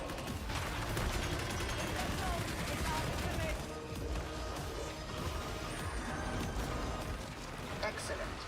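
Gunfire from the video game Warhammer 40,000: Darktide, a dense, continuous clatter of shots and crashes filling the whole stretch, loud and busy, with voices talking over it at times.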